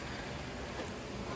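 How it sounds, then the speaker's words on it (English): Rain falling steadily outdoors near a house gutter, a soft continuous broadband hiss with no distinct drops, faint and even throughout. "It's raining."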